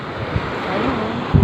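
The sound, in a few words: strong wind at a beach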